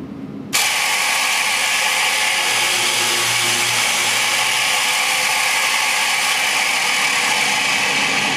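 A line boring machine drills a row of holes into a lumber board. It starts abruptly and then runs as a loud, steady mechanical whir and grind without a break, close to the listener.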